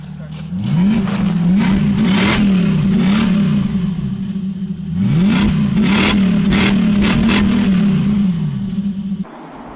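A Lexus LS400 1UZ-FE V8 with its silencers cut off and a side pipe revs hard and loud in two long rising pulls, then settles to a throaty rumble. Voices talk faintly underneath.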